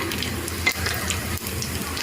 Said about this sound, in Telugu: నూనె వేడెక్కింది ఇప్పుడు దీంట్లో ఒక రెండు స్పూన్లు తాలింపు గింజలు వేస్తున్నాను